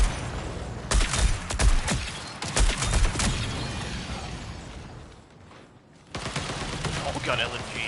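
Light machine guns fire in the shooter game Marathon in loud, dense, rapid bursts that fill the scene. The firing fades briefly, then resumes, with a voice speaking over it at times.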